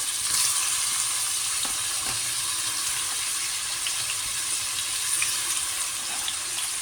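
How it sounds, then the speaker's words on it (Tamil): Onion and tomato hit hot oil with bay leaf, cardamom and cinnamon in a pan for vada curry, giving a steady bright sizzle and hiss that holds evenly throughout, with faint scattered crackles. "இப்போ இதோட ஆனியன் போடுறோம், தக்காளியும் போடுறோம்."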